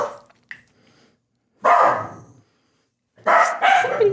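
A dog gives a few sharp, loud barks: a faint yap early on, then one strong bark followed after a pause by two more close together, heard near and without talk.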